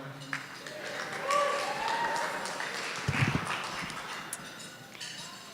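Wedding guests applaud and cheer after a speech, a moderate patter of clapping with a few whoops that rises, peaks briefly and trails off, heard at some distance in the room.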